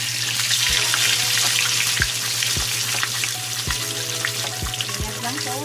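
Pork belly skin crackles and sizzles in hot oil for lechon kawali, a steady close frying hiss broken by a series of soft periodic pops and thuds, with a low electrical hum underneath.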